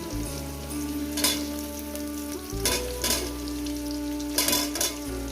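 Potatoes and pointed gourd frying in oil in a pan for a vegetarian curry, a steady close sizzle with a few brief stirring scrapes.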